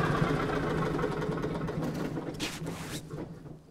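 Old farm engine running with a steady low chugging as its fuel is cut off, the beat thinning and fading toward a stop, heard close with no talk.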